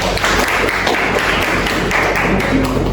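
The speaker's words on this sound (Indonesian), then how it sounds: "Tepuk tangan atas pertanyaannya." A seated audience at a question-and-answer session claps in thanks, with close, loud taps and thuds that form a dense, continuous patter for a few seconds.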